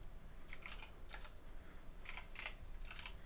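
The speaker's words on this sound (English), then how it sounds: "I typed so slow." Computer keyboard typing in short quick bursts separated by brief pauses, fairly faint and close, with no talking.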